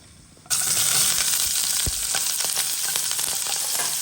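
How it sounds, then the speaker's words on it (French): Onions hit a hot pot for cassoulet and start frying with a sudden, loud, steady sizzle that continues up close, with a faint clink of stirring. "Je mets mes oignons."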